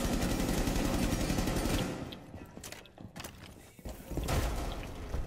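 Rapid gunfire in a video game hostage standoff rattles out as a dense burst for about two seconds, then scattered thumps and shots follow amid quieter gaps.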